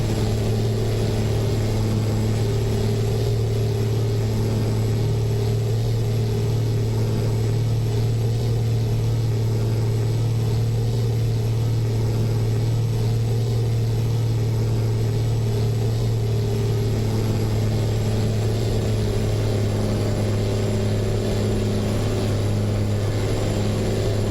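Truck engine in American Truck Simulator drones at a steady loud low rumble, unchanging and alone, with no voices over it.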